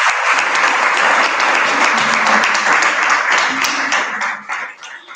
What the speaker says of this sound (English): let's do a big round of applause for Amber.